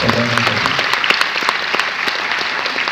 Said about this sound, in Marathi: मला वाटतं त्यासाठी एकदा कडकडून टाळी व्हायला पाहिजे